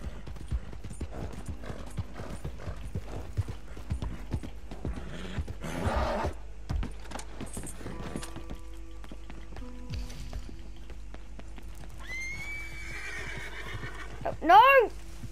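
Rapid hoofbeats of a galloping horse in the video game Red Dead Online clatter in an irregular rhythm, followed by a horse whinnying loudly near the end, with faint mechanical clicks in the background.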